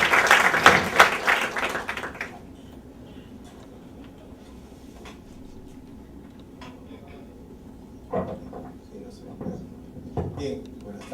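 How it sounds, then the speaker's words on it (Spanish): Applause for a speaker at a university panel on the conflict between PUCP and the Archdiocese rises in a loud burst at the start, then quickly fades into a quiet room with scattered knocks and a voice speaking. "Pido un fuerte aplauso, por favor."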